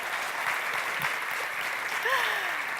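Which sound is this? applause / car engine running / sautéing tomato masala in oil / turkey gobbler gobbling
applause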